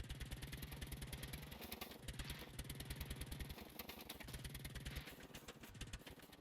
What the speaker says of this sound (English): Engine sounds like a little putt-putt engine.